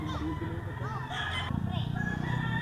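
A white kelso rooster crows in a fighting-cock yard, its call rising among other fowl sounds while someone talks over it almost throughout.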